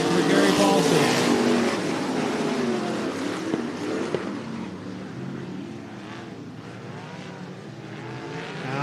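Race cars roar around the Cottage Grove Speedway oval in Oregon, a loud, continuous engine drone that fades slightly as the pack moves off, with a commentator talking over it.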